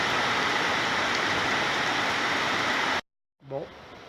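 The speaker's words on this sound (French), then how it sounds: "quasiment ça n'arrête pas de pleuvoir." Dense, steady hiss of rain falling on a hike from Nebaj to Todos Santos for about three seconds, then a sudden cut to silence before rain resumes with a brief voice over it.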